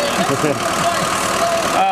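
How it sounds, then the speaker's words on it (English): A non-turbo eight-cylinder car engine idles with a steady mid-range rumble and slight unevenness, while people talk over it throughout. "the engine is running well. It's not fully, perfectly smooth, so there's some injector work I have to do"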